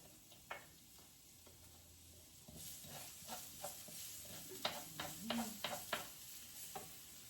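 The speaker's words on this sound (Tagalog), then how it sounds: "iuna ko po yung garlic para mabango. Ayan, nag-sear na po." Garlic searing in a hot pan: a quiet sizzle with soft stirring scrapes and irregular crackles, close and faint, no one talking over it.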